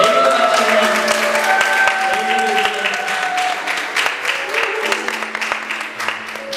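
A church congregation claps in welcome for a returning visitor, a dense, steady round of applause that thins slightly toward the end, with voices murmuring underneath.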